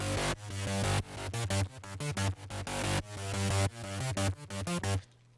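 A pulsing synthesizer patch built in Serum plays a rhythmic, chopped sequence of loud stuttering chords and bass hits that gates on and off before cutting to near silence at the end.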